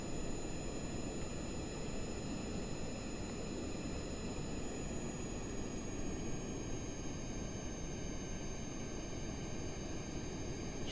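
Steady, loud engine roar of a small rocket-style aircraft lifting off in a spaceflight game, a broad continuous rush with faint high whine tones held throughout, no talk.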